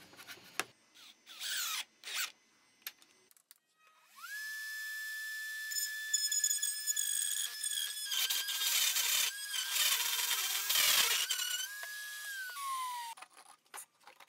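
A router spins up on a router table, cutting a large 2-inch wooden dowel fed through a jig, a high, steady motor whine under a rough chattering cut for about eight seconds, preceded by clunks of handling.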